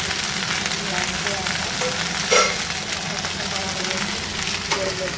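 Food frying in a pan in a home kitchen, with a steady crackling sizzle throughout and one brief clink of a utensil partway through.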